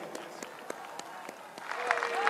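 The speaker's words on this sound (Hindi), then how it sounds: "तालियों से स्वागत कीजिए।" Applause greets Prime Minister Narendra Modi as he is welcomed onto the stage at a Parakram Diwas event in Kolkata, scattered sharp claps at first, then building into denser crowd clapping with voices over it.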